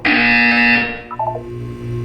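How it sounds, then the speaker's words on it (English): A loud buzzer sounds in the video game Portal 2 during a wellness exercise, a harsh sustained electronic blare of under a second, followed by a few softer tones and a low hum. "When you hear the buzzer, look down at the floor."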